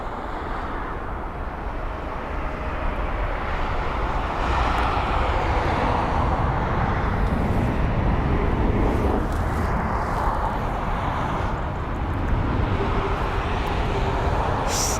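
An Airbus A320neo passes at Heathrow as a broad, steady jet roar building from moderate to louder and holding, heard from a distance with a rushing, airy texture and no clear talk.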